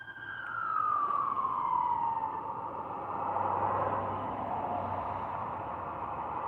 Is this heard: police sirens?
yes